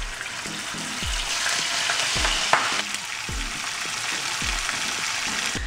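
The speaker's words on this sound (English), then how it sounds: "now we're gonna cook the bacon." Constant sizzling and crackling of bacon frying in a pan, with a few dull thumps from stirring or moving it around.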